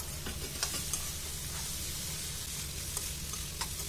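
Spiny gourd (kakoda) roasts in a pan with a steady, even sizzle, and a spoon scrapes and stirs it in a few light, scattered clicks. No voices.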